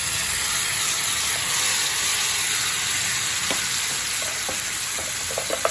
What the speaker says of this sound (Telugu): ఇప్పుడు మనం మిక్సీ పట్టిన పాలకూర పేస్ట్ వేసుకుందాం